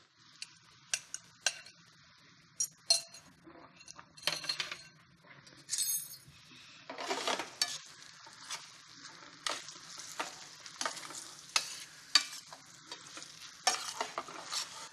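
Eggs are stirred into hot fettuccine-style pasta in a pan, with a soft sizzle under repeated scraping and clinking of a utensil against the pan, steady and close with no talking.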